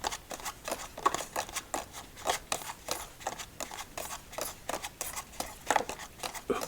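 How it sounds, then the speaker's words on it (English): Green foil metal playing cards given a casino shuffle, producing a steady run of crisp riffling snaps and flicks that repeat in quick bursts, close and fairly quiet, with no voices. "let's start off with a casino shuffle"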